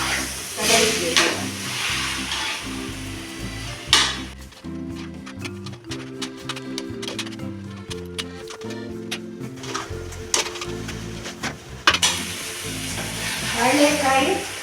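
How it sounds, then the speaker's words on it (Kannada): Raw banana and tomato pieces cooking in masala for a traditional banana stir fry, with a spoon scraping and stirring through a gentle sizzle in a pan, close up, with occasional clinks and no voices. "ಈಗ ಬಾಳೆಕಾಯಿ ಮತ್ತು ಟೊಮೆಟೊ ಹಾಕಿದ್ದೀನಿ, ಅದನ್ನು ಈ ಮಸಾಲೆಗೆ ಹಾಕಿದೆ."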